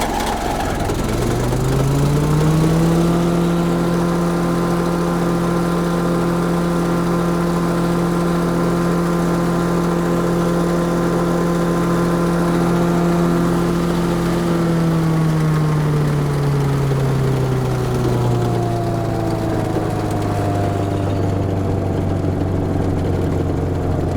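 A DR chipper, model CP55047BMN, runs on its replacement engine, throttled up to a steady, loud drone that holds for several seconds and then winds down in pitch as the revs drop.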